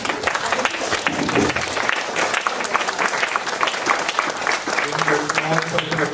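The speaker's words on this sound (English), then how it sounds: "So can we have a round of applause for Meng?" An audience at an educators' summer school Q&A applauds for Chade-Meng Tan, a continuous crowd of clapping hands with scattered voices and cheers underneath, holding steady for several seconds.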